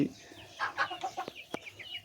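A desi naked-neck chicken, a local breed with a featherless neck, gives a few short clucks and soft squawks close by, with no voices around it.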